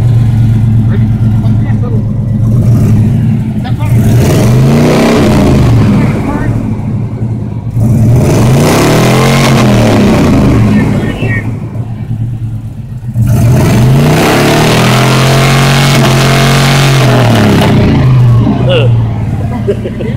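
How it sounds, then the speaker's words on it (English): A car engine is started and revved repeatedly, rising and falling in several loud, close revving swells with idle between them, while people talk in the background. "Start the engine."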